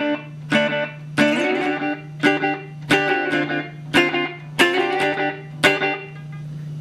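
Electric guitar played through a homemade chorus pedal built on a simple delay chip, set to echo: seven strummed chords spaced about a second apart, each ringing with repeating wobbly echoes over a constant low hum.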